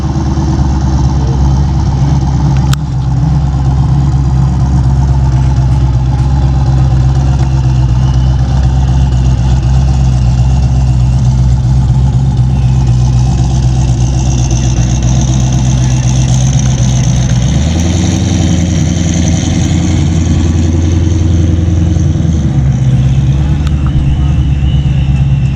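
A Fox body Mustang with a narrowed rear end and a big motor runs at a car show, its loud, deep engine rumbling steadily up close, with a change in pitch near the end.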